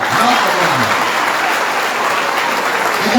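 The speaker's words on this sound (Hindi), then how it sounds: "एक बार हमारी प्राची बहन के लिए ताली बजाओ।" Applause from an audience at a spiritual discourse held in a college in Fiji, steady dense clapping throughout, loud and close, with no talking over it.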